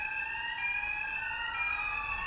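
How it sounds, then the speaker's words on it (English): A college building's fire alarm sounds as a continuous, steady electronic tone with a bright, shrill ring, moderately faint and unbroken throughout. "When the alarm sounds,"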